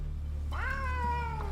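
A single drawn-out savanna cat meow, rising then sliding slowly down, close and fairly loud over a low steady hum.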